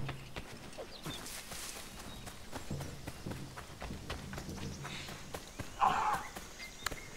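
In Assassin's Creed III, a horse trots with a steady, faint clip-clop of hooves over quiet outdoor ambience, with one brief louder rustle partway through.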